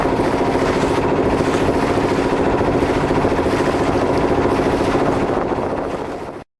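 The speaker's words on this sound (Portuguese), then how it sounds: "Um barco no Rio São Francisco." A boat engine drones steadily on the São Francisco River, a constant loud low hum with water noise that holds throughout before cutting off at the end.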